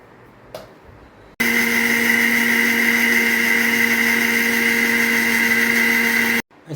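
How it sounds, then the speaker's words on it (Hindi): An electric mixer grinder blends a masala paste for a Malvani surmai fish curry. It starts abruptly, roars at a steady loud whine for about five seconds, then cuts off. "अभी इसको हम मिक्सर में लगाएंगे"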